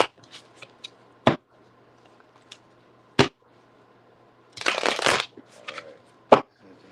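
A deck of playing cards is shuffled and riffled in several short bursts, with one longer ruffling burst near the end, close and fairly quiet with no talk.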